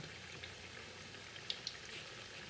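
Salmon croquettes fry in a pan of hot grease with a steady, soft sizzling hiss, joined by a couple of small pops and spatters, with no talking.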